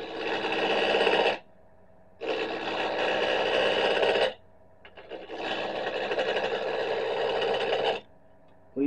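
A bowl gouge cuts into wood spinning on a lathe, making three loud, sustained scraping passes of a few seconds each, separated by brief quieter gaps where only the machine's hum remains.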